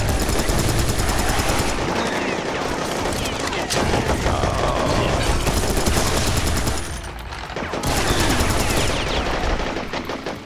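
Rapid gunfire in the first-person shooter Serious Sam 3: sustained, loud automatic bursts that barely let up, dipping briefly before resuming, with the firing filling the whole clip.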